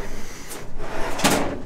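A drawer in an op-shop slides open in one short, close scraping movement over a background of room noise.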